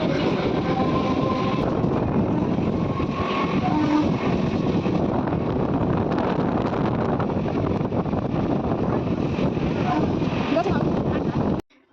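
A nighttime passenger train rolls along in the rain, heard from inside a nearly empty carriage as a loud steady rumble and rattle with wind roar, continuous until a sudden cutoff at the end.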